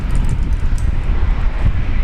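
A Jetstar jet on its takeoff run from runway 19 left at Brisbane Airport, a steady loud engine roar with rumbling low end and wind buffeting throughout.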